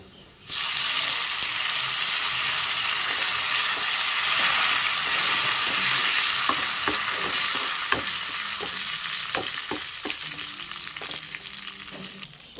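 Curry leaves hitting hot oil in a pan for a raw banana and lentil curry: a sudden loud, steady crackling sizzle that starts abruptly, then settles with scattered pops and spatters while slowly fading.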